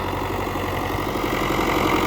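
A steady MTZ-80 tractor engine rumble runs without a break while plowing, loud and close, with a low, even throb.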